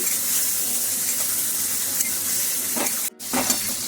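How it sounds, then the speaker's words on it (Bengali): Turmeric, salt and other spices sizzle steadily in hot oil with potatoes in a pan while being stirred and turned, and the sound drops out briefly near the end. No one speaks. "দিয়ে এবার সবকটা মশলাকে একটু ভালো করে নাড়াচাড়া করবেন"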